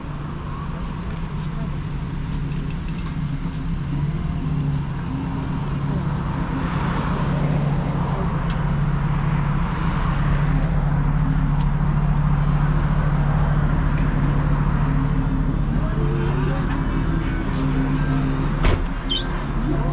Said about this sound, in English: Yes, traffic. There's traffic.